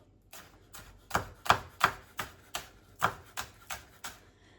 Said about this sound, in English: I don't like my celery chunks too big, so I'm keeping them that shape, but I'm trying to cut them a little bit thinner.